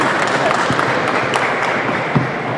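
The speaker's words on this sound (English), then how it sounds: "Come on, give a nice round of applause." An audience applauds to welcome speaker Albert Corey at a business seminar, a loud continuous roar of clapping with a few sharper claps standing out.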